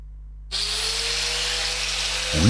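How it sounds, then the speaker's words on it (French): A thin grinding disc bevels weld tack points on steel, starting abruptly after a short quiet hum and holding a steady, bright, loud whine with a rising scrape at the end. "On utilise une meule fine"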